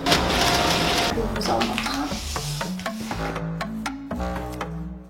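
A printer running while printing sock designs for a witch-themed collection, steady mechanical whirring and rubbing with repeated clicking steps, close and fairly loud, with a brief French voice speaking over it.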